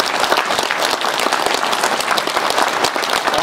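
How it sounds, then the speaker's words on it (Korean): A seated audience at a general meeting of a Hungnam evacuation memorial association breaks into sustained applause, a dense, even wash of many hands clapping close by with no talk over it. "박수를 보내주시기를 바라마지 않습니다."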